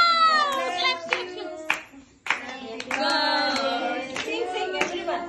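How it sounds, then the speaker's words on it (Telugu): Hands clapping in a group at a child's birthday party right after the candles are blown out, a burst of close applause mixed with cheerful voices and someone talking. "Wow, clap clap."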